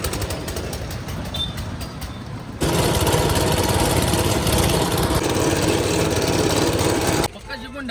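A tractor engine drones loud and close with a rough, steady rumble, its level jumping higher partway through as it runs on, while a voice speaks over the noise.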